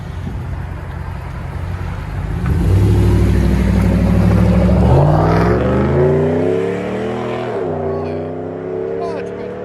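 A RAM 1500 pickup with a race bullet resonator, Dynamax muffler and muffler delete idles with a deep rumble, then revs up loudly with rising and falling engine tones before settling back, heard up close with no talking.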